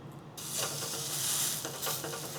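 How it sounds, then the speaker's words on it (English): Loud, steady sizzling of an 80-20 beef patty hitting a hot pan, a bright hiss swelling and pulsing with small crackles, no voices. "Let's see if we hear a little sizzle."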